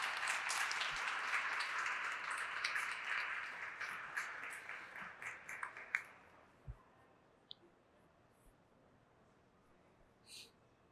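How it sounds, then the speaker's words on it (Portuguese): Audience applause for the brewers at a Brasília beer event, a steady wash of clapping for about six seconds that thins into a few scattered claps and then quiet. "Mais uma salva de palmas aí para os nossos cervejeiros."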